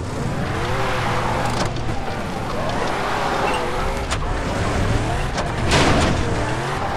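A car engine revs with a wavering pitch while its tires squeal and skid on poor traction in Far Cry 3. The noise is loud and continuous for several seconds.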